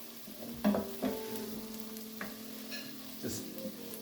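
Lobster bisque vegetables browning in a pot over medium-high heat give a steady low sizzle, broken by a few louder scrapes and stirs of a spoon at close range, with no talking.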